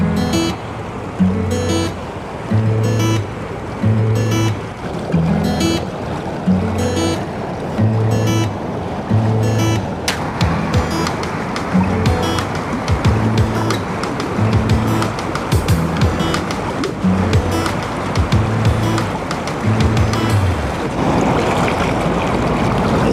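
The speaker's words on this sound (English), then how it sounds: "See the white water there, what happens," White water rushes steadily on a river beside moored boats, a continuous loud wash with gusts of wind buffeting the microphone and a faint rhythmic thumping underneath.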